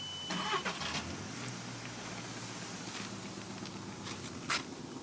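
A Volkswagen Golf cranks briefly and catches on a cold start, then settles into a low, slightly rough idle heard from nearby outdoors.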